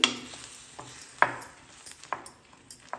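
Chicken with a pinch of turmeric being stirred in a pot makes a series of close utensil scrapes and clinks against the metal, spaced irregularly over a faint sizzle, with no talking.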